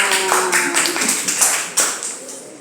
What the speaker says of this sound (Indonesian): Oke, semuanya tepuk tangan.